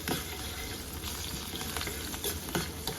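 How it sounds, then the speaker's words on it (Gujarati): Peanuts sautéing in oil with green chilies for a fasting-day millet khichdi, a constant close sizzle with crackling and occasional stirring scrapes, quiet overall, no voices. "તો સિંગદાણા જ્યાં સુધી લાલ ના થાય ત્યાં સુધી આપણે એને સાંતળવાના છે"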